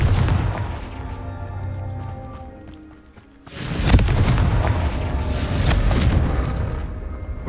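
Confringo blasting curse in Hogwarts Legacy, heavy booming explosions, one rumbling blast fading out, then a sharp loud burst followed by rolling crackling blasts.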